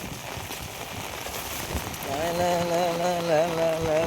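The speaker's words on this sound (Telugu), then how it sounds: "వాన ఎట్లా కొడుతుంది అంటే ఇక ఇట్లా కొడుతుంది వాన" Steady monsoon rain patters down on a road with water running, close and continuous, while a person talks over it in the second half.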